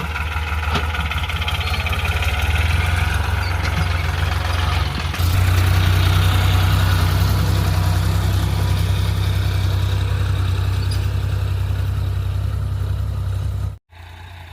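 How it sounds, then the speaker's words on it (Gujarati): A Sonalika DI 35 tractor drags a harrow through a cotton field, its diesel engine holding a steady, loud low drone that runs unbroken until a brief cut near the end. "આવી ગયો કપડાના ખેતરમાં ટ્રેક્ટર હાલે છે"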